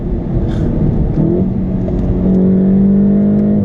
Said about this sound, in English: you've got the epic sounding DSG as it stretches from one gear to the next